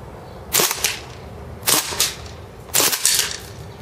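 Marushin M2 Carbine gas airsoft gun firing three sharp, snappy single shots at roughly one-second intervals, each followed by a quick mechanical echo, up close with no talking.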